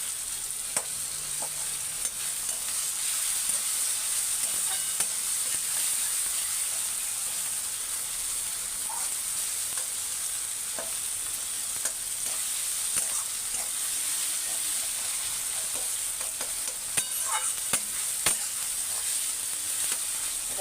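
Tomatoes and spices fry in a pan with a steady soft sizzle and occasional stirring clicks and scrapes, faint and close, with no talking.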